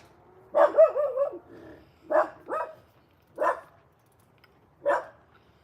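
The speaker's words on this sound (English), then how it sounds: "these dogs are going to drive me crazy" Dogs in the Philippines bark repeatedly, opening with a rough, growling burst of barks and then settling into separate sharp barks at irregular intervals, close and clear over a quiet background.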